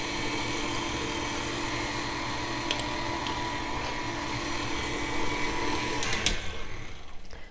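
An electric mixer creams peanut butter cookie dough with a steady, loud motor whir that runs throughout, with a brief clatter near the end.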